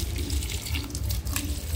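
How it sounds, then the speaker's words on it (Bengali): An aloe vera plant is watered in a short, steady rush of pouring, splashing water, close and fairly loud, with no talking. "দেখো অ্যালোভেরা গাছে পানি দিতে এসেছে।"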